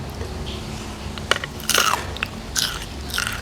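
Crisp bites into a butterflied fish that has been fried but not sun-dried: a few sharp, close crunches and chews in quick succession, with no talking.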